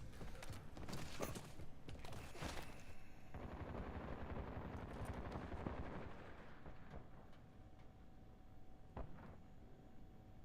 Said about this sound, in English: Who's shooting at me already